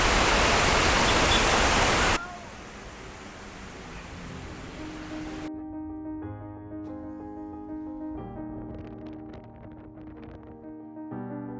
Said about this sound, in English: We just saw a nice waterfalls here and look at this waterfalls.